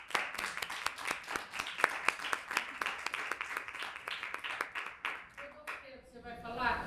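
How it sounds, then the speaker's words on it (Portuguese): Clapping breaks out from an audience at a tribute event for a professor, a steady rhythmic patter of many hands lasting several seconds before tapering off as a voice begins speaking. "eu peço uma salva de palmas para ela"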